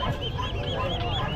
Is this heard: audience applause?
no